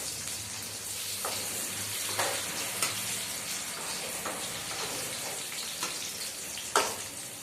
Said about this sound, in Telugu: కొంచెం వేగాలి, ఇంకా కొంచెము. వేగినాయండి వంకాయలు.